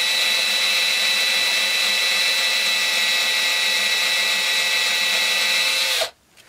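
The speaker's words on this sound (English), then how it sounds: "we're not drilling too fast, because if you drill fast, all you do is create heat" A drill bores steadily while a wooden dowel is being made, a continuous even whine held for about six seconds before it abruptly cuts off.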